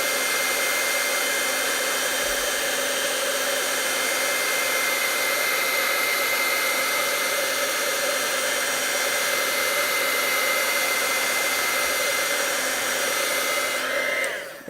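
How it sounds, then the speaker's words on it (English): Heat embossing tool warming stamped ink on paper, a loud, continuous fan-driven whir with a steady motor whine that runs evenly for many seconds and then cuts off abruptly at the end. "So I am going to just turn on my heat tool and heat this up just to set the ink."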